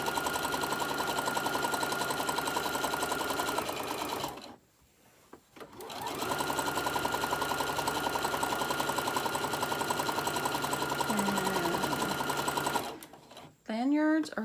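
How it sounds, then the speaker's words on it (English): A sewing machine runs steadily, stitching a fabric lanyard, loud and close, with a brief pause midway and a short stop near the end. "I'm just going to sew this all the way, keeping this lined up."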